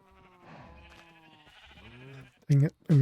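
Two short, loud bleats of a sheep ring out near the end, after a softer stretch of wavering, tonal sounds.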